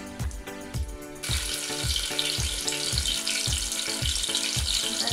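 Onions for veg pulao sizzle and fry in a hot pan, a dense steady crackle joined by rhythmic scraping thumps of stirring, close and fairly loud with no talk.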